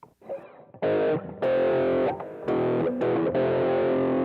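Heavily distorted electric guitar power chords ring out in several sustained blasts, separated by brief gaps as the chord changes, moving between root-to-fifth and root-to-fourth relationships.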